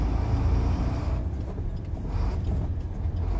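Sinotruk truck engine running steadily in high range sixth gear, a loud, continuous low rumble close by with no talking.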